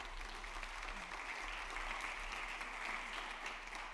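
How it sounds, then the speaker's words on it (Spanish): A church congregation applauds during a sermon, a steady, moderately faint wash of clapping sustained throughout with no talk over it. "Aplaudan al Señor, me parece lindo."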